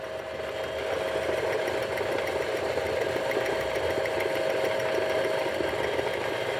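A car engine runs steadily at idle while the clutch pedal is pressed, a close, even mechanical hum and whir with no talking.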